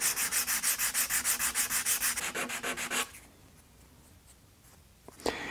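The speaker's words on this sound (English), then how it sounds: "I'll just sand it with some 220 grit and follow that up with some" Fine 220-grit sandpaper rubs back and forth over a small oak truss rod cover for a guitar, about twenty quick, even strokes close up, then the scratching stops and a faint knock follows near the end.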